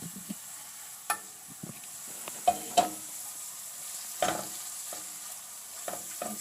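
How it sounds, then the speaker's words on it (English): Soft, steady sizzle of onions frying in hot oil, broken by a few sharp scraping stirs and clacks from a utensil against the pan. "You sort of cook the onions until it's somewhat brown."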